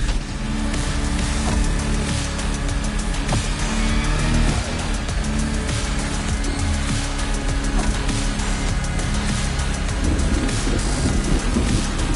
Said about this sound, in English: You're racing a power truck smack in the middle of a volcano